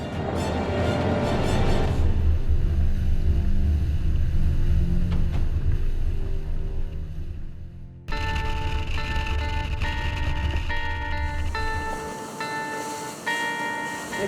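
A LOMAC Adrenalina 9.0 inboard powerboat runs at over 30 knots and about 3,500 revs, giving a loud, steady engine drone with rushing water, and the tone shifts partway through.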